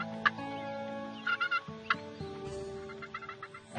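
Wild turkeys on the Minnesota prairie gobble and cluck in a few short bursts of rapid, rattling calls, moderately faint and spaced apart.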